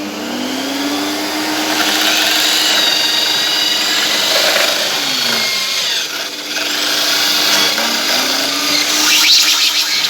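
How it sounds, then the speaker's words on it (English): A power drill whirs steadily with rising and falling motor pitch, running loud and close for most of the stretch with brief dips. "Back to the drilling."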